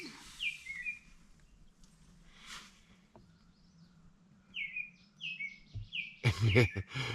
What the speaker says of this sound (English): Do you hear that bloody bird in the background?